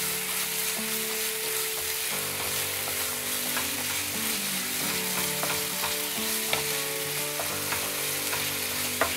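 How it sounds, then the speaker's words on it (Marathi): Tomato and onion masala sizzles softly in a pan over a medium flame, with a steady frying hiss and repeated light scrapes and taps from stirring. Faint tonal background music runs underneath. "हा टोमॅटोही थोडा मऊ होईपर्यंत परतून घ्यायचा आहे। गॅसची फ्लेम आपण मीडियम वरच ठेवलेली आहे, त्यामुळे हा मसाला असा परतत राहायचा"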